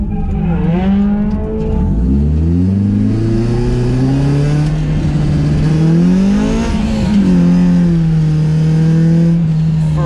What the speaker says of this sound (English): Oh, turbo cars look like fun.